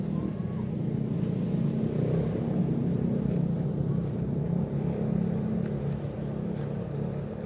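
A car passes close by with a low, steady engine rumble and road roar that swells and fades gently against wind noise.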